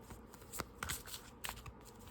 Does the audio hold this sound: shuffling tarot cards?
yes